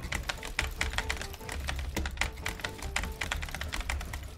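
Computer keyboard keys clack rapidly and steadily during gaming, a dense, close stream of light taps with no talking.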